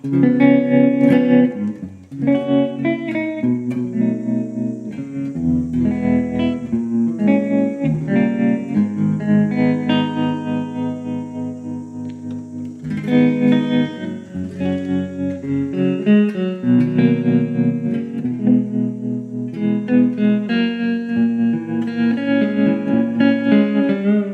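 An electric guitar played through a JK Pedals Baby Doll Deluxe tremolo pedal, with tone rolled down, gives mellow sustained chords and notes in a continuous pulsing passage, loud and close with no talking.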